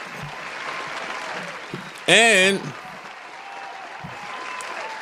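A round of applause breaks out during a talk podcast, a steady wash of clapping filling the clip beneath a voice, with a brief louder tonal burst near the middle.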